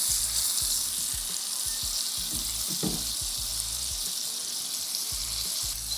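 Salmon fillets sear in a hot frying pan with a steady, close hiss of sizzling oil and a brief scrape partway through, no voices over it.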